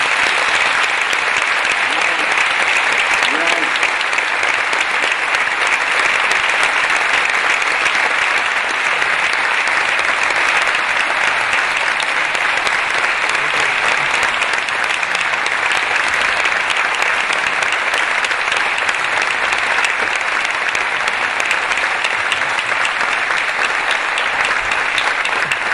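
A large audience in Ávila gives a long, steady ovation at a night-time charity event against ALS. Dense clapping holds evenly for the whole stretch, loud and close, with no clear voices over it.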